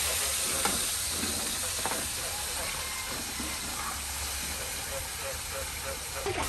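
Catfish frying in a pan, a steady dense sizzle and hiss that carries on throughout with faint clatter, close and moderately loud, no talking heard.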